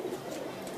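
Soft, low cooing from a Sialkoti breeder pigeon, a brief murmur at close range with no voices.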